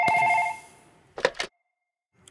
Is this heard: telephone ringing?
yes